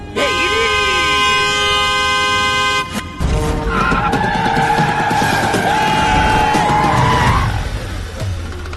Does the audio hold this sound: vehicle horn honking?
yes